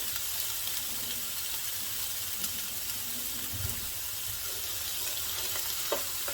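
Yellow, orange and green peppers with onion begin frying in a pan, a low, steady sizzle with faint crackles and no voices.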